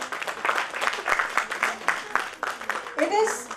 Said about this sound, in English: that calls a big round of applause for each one of you here